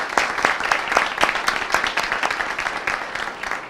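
A conference crowd claps loudly and continuously, individual sharp claps standing out within the steady applause.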